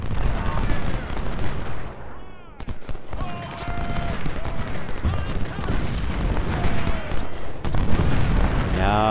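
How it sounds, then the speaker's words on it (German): Dense gunfire and cannon booms roll through a Civil War battle in Ultimate General: Civil War, a busy, continuous fusillade with occasional sharper shots and a German-speaking voice over the din. "Los, Wickham, schieß nochmal."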